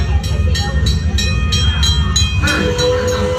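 An authentic steam train running, with a loud low rumble and rhythmic clatter of the wheels on rails repeating about twice a second, steady and close throughout.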